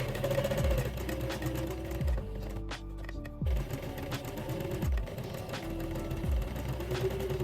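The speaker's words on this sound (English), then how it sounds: "Sew them together." A sewing machine stitching pieces of a puff-sleeved dress together, a close, steady mechanical whirr with rhythmic needle clatter, briefly pausing midway before running on.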